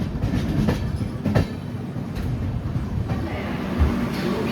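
A train rolls into platform 1 of Santragachi station, wheels clattering steadily over rail joints with a dense low rumble and a few sharper knocks, close and continuous.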